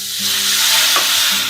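Spices with salt and amchur powder sizzle loudly in a pan as about two spoonfuls of water are added for dry potato sabzi, with a steady hiss and a brief stirring scrape near the middle.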